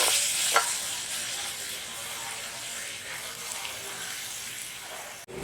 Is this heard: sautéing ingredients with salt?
yes